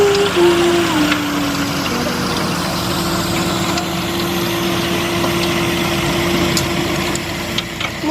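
A tractor pulling a soil-mulching and bed-forming machine through a vegetable field runs with a steady, loud, close engine drone and a constant low hum that holds unbroken from start to finish.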